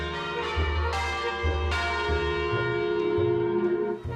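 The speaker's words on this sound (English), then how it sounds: "or church bells." Church bells ringing loud and resonant, successive strikes blooming into long overlapping tones that hang and decay, with no other sounds.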